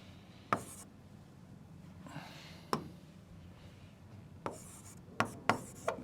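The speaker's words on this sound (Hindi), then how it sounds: "तो यहाँ पर लिख सकते हैं" Writing on a board during a physics lesson: faint scratchy strokes punctuated by a handful of sharp taps and clicks, spaced irregularly, with no speech.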